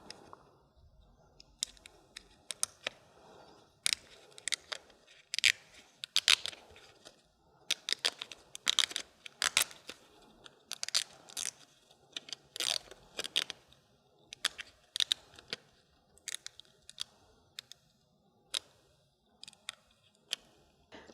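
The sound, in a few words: peeling away infusible ink sheet backing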